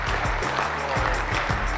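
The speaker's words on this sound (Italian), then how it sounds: "Campania è pronti a un lunghissimo applauso" Audience applause at the national presentation of an Italian beer guide, steady clapping throughout with a low murmur and rhythmic thumps underneath.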